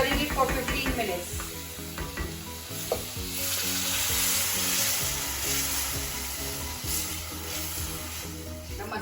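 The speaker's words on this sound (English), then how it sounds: "I'm going to put my tomato and then give it a stir and keep stirring it for 15 minutes." Tomato is stirred into a sizzling masala for malai paneer, giving a strong, continuous close sizzle with rhythmic spoon scrapes against the pan and a faint tonal background hum.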